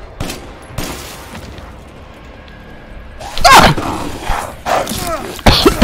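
Gunfire bursts out in the survival horror game Resident Evil Village, sharp loud shots and thuds in uneven clusters, with a quieter lull between the early and late volleys.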